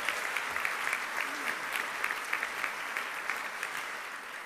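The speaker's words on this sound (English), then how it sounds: "let's give them one last round of applause." Audience applause fills a university honorary degree luncheon, a steady, moderately distant patter of many hands clapping with no voices over it, holding even throughout.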